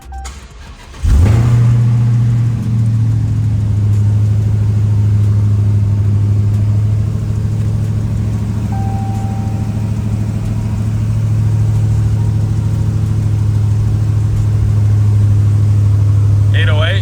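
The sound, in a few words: Dodge Demon swapped car engine starting and revving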